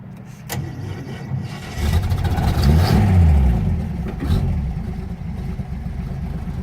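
A cold Holden FX car engine runs on choke with old fuel, idling and then revving up and down in several swells, loud and close, with a brief knock at the start.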